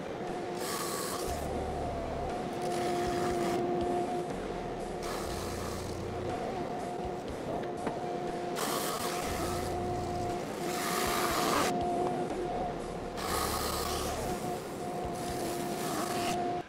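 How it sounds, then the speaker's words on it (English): A drum sander smoothing the top face of a wood slab in a workshop, a steady mechanical drone with repeated louder passes as the slab feeds through. "let's go back to the drum sander and smooth out this top side"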